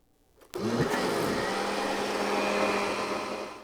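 A blender switches on abruptly while mixing chocolate mousse with eggs, then runs as a loud, steady whirring motor drone that slowly tapers at the end.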